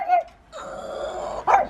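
A dog named Eve barks at people nearby, giving a short bark, then a sustained whining growl, then another sharp bark, all close and fairly loud with no talk.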